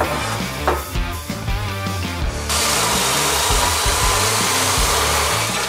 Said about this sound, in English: I started by welding the legs together with the small side braces